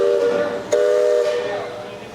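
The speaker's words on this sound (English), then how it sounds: "they're about to blow the whistle loud" A steam riverboat whistle on Disney World's Rivers of America blows loudly in a steady chord, briefly dipping, then continuing and fading slightly, with a hint of voices beneath.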